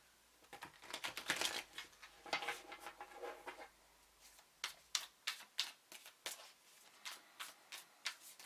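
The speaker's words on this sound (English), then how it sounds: "I really need to give a good shuffle" Tarot cards are shuffled by hand in a quiet room, a fast flurry of papery riffles followed by a series of separate crisp snaps and taps spaced about half a second apart, close and fairly soft.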